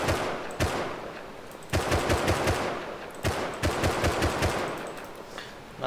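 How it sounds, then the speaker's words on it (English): A custom semi-automatic rifle fires in the Rust video game, sounding as three bursts of quick, evenly spaced shots separated by short pauses, loud and close. "Custom semi-automatic rifle."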